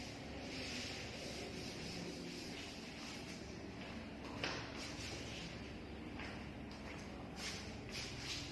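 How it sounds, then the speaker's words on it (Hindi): A duster rubs chalk or marker writing off a classroom board during a geometry lesson, a steady soft scrubbing that runs continuously, fairly faint, with a few brighter swipes. "मैं केस नंबर 1 को रब कर दूं।"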